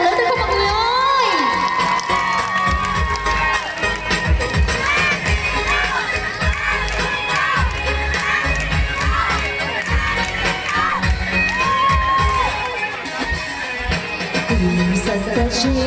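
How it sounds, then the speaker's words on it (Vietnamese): A crowd at a Hmong cultural performance cheers and shouts loudly, with children's voices in the mix and a dense roar of applause that carries steadily through the whole stretch under music. "một tràng vỗ tay thật là lớn được không mọi người ơi"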